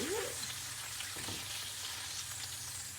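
Sesame-crusted tuna seared in a pan, a soft constant sizzle with faint crackles running throughout, quiet, with a brief vocal sound at the very start.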